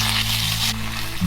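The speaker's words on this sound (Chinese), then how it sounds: "咸鱼炸香了之后呢，就把肉末放进来炸" Minced pork sizzles loudly in hot oil in a clay pot, following salted fish fried there first; a steady, close crackle holds throughout with no voices.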